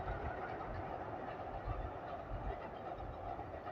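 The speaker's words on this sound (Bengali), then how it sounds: "আর এবার দিয়ে দেখুন কত সুন্দর ট্রেন যাচ্ছে" A train passes over a bridge on the Kansai river near flower fields, a steady distant rumble of wheels on rails with a continuous low roar throughout.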